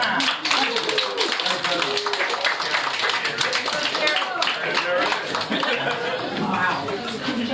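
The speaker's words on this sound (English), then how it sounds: "let's clap really loud for Jake" Children at a birthday party with a hypnotist clap loudly and continuously for the birthday boy, Jake, with giggling and chatter mixed in throughout.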